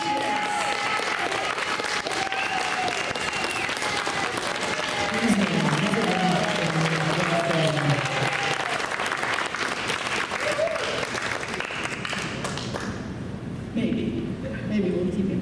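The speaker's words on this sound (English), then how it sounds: "Can we give a round of applause for this guy?" A church audience claps for a man in the congregation. The applause is sustained and fairly even, with some low voices and cheering in the middle, and it thins out toward the end.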